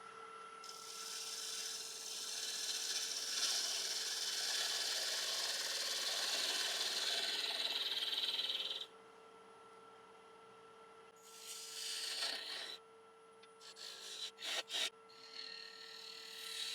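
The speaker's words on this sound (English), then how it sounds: "I'm just going to switch over to a 1/2 inch spindle gouge" A half-inch spindle gouge cuts a yew log on a lathe for an emerging vase, a steady close scraping hiss for about nine seconds, then a quieter hum with short bursts of cutting and light tool touches.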